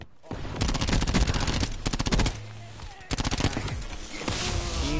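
An MX9 submachine gun with no attachments fires in a first-person shooter game, rattling out several long, loud full-auto bursts separated by short pauses.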